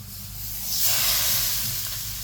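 Cucumber thalipeeth sizzling on a hot oiled griddle, a steady hiss that swells briefly midway before settling, with a low hum underneath and no talking.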